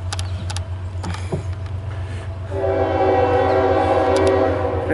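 A CSX M415 mixed freight train rolls past with a steady low rumble, then its horn sounds loud and sustained from about halfway through to the end.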